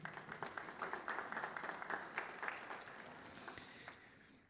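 Audience applause at an international artificial intelligence congress opening, brisk overlapping claps with some sharp individual hits, fairly quiet and distant, tapering off near the end.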